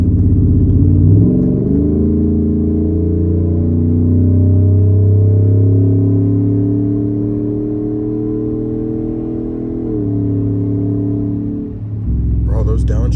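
Low, rumbling burble from a Ford F-150 fitted with a Flashark cat-back exhaust, swelling and easing through downshifts in a steady drone, with people talking over it.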